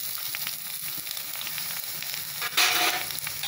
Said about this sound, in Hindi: लहसुन को भी मैंने डाल दिया है, उसको भी मैं चला लेती हूँ। अब अदरक को भी मैं डाल देती हूँ इसे।